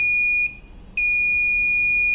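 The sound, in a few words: Arduino buzzer alarm alert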